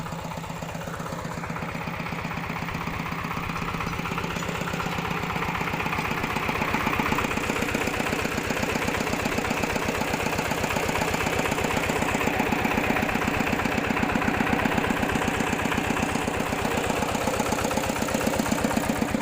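A fuel-powered engine driving a water pump in a garden, running steadily with a fast, even mechanical chug close by and fairly loud, alone without speech.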